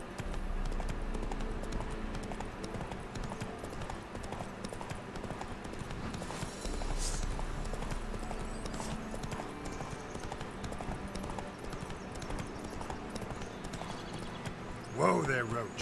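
Roach, a horse in the video game The Witcher 3, clip-clops steadily across ground with a continuous rhythmic hoof beat throughout, under a busy game soundscape, with a louder burst near the end.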